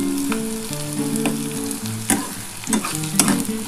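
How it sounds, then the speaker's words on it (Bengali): Ivy gourd frying in a pan with poppy seeds, a steady close sizzle with irregular stirring scrapes and clatters throughout, no voices. "তখন আমি পোস্তটা দিয়ে কিন্তু খুব ভালো করে ভেজে নিয়েছি"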